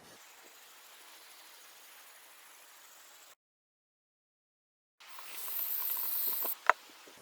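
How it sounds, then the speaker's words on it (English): Fine 600-grit wet sandpaper rubs over a motorcycle wheel, a soft steady hiss that stops for a pause and then returns louder and rougher, ending with a sharp little knock. "This is 600 grit, wet sandpaper."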